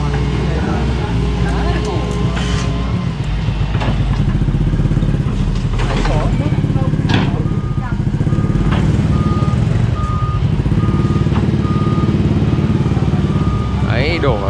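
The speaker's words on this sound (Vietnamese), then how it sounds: "cả làng chạy ra xem máy xúc phá cây dừa" A Doosan excavator knocking down a coconut tree, its engine rumbling loudly nearby with repeated reversing beeps and clattering, while villagers talk over it.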